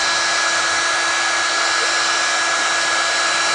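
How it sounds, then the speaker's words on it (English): A heat gun set on high blows steadily in a woodshop, drying nitric acid stain soaked into a board made of six wood species, with a continuous, loud, even airflow roar and no talking. "I'm going to take the heat gun, put it on high."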